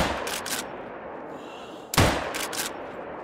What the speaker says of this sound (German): Ah, das war wieder ein schlechter Schuss.